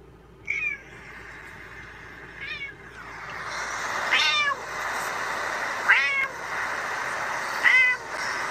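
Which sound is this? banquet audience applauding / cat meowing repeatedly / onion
cat meowing repeatedly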